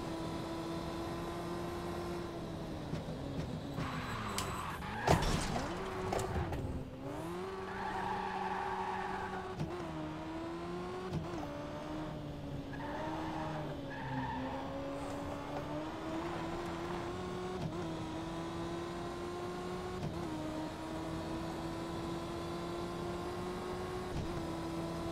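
A race car in the racing video game Victory: The Age of Racing runs a hot lap, its engine droning steadily with rising and falling pitch through gear changes and corners, a loud burst with skid-like noise early on.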